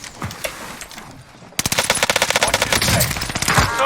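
Automatic machine gun fire in the video game Warzone, a loud, sustained rapid burst of shots starting abruptly and continuing to the end after a quieter stretch of game sounds.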